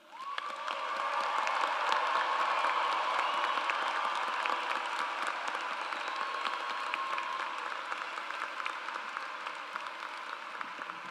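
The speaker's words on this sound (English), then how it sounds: "Will everyone please join me in a round of applause for our graduates?" A large crowd at the Spring 2024 College of Arts and Sciences commencement applauding the graduates: sustained, even clapping that swells quickly and holds steady for about eleven seconds, slightly distant and reverberant.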